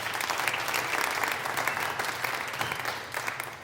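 Audience applause for a big band singer at an outdoor live concert in a park, dense steady clapping throughout without any voice over it.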